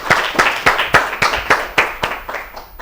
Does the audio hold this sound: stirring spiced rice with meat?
no